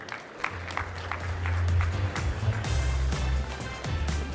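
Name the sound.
audience applause at a conference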